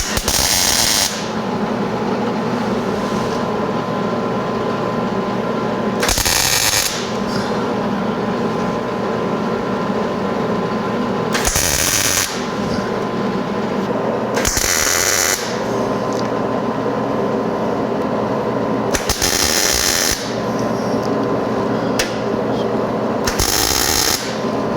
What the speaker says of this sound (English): now we're ready to tack weld the nut to the firewall